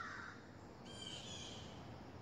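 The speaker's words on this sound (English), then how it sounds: "That's the bird call." Faint crow-like caws from a bird calling outdoors, a couple of harsh calls rising over a soft, steady background hiss with no voices.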